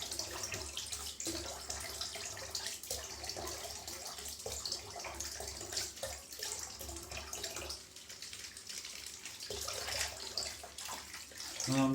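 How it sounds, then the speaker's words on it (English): Running water splashes steadily from a tap as soap is rinsed off after a shave, a continuous close rushing stream that swells slightly toward the end. "I'm just rinsing off the soap while I'm at it at the moment."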